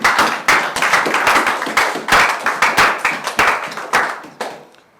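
A church congregation claps hands together in steady, lively rhythm, a dense run of sharp claps that carries on for several seconds before thinning out and fading at the end, with no talk over it.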